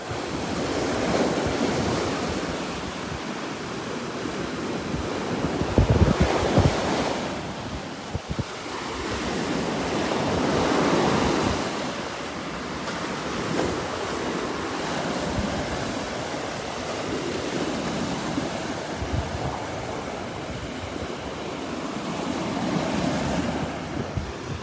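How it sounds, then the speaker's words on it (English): Waves crash and wash continuously onto a beach strewn with dead trees at Delnor-Wiggins, a broad roaring surf with wind buffeting the microphone and surges rising and falling throughout, no voices. "I love watching the waves crashing over the dead trees here."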